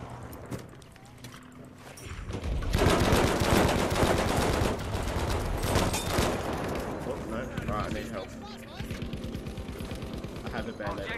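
Rapid gunfire rattles in a Battlefield V multiplayer match, sharp repeated shots building into a dense, loud burst of fire with voices talking over the action.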